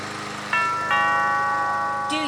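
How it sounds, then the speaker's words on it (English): A toy lawn mower plays the Lawn Mower Song, bright electronic chime-like notes sounding one after another in a simple melody, close and clear, with a new note starting near the end. "That's the Lawn Mower Song."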